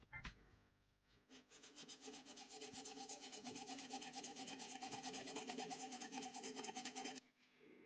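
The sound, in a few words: hacksaw cutting metal socket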